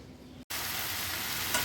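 Leafy saag greens fry in a pan, a dense, steady sizzle close by after a short quiet moment, with a faint stir near the end.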